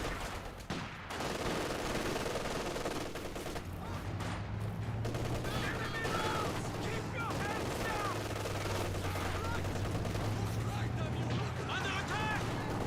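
MG34 machine gun fire in a Company of Heroes 2 battle, a continuous din of gunfire and battle noise with scattered bursts, heard under a commentator's voice.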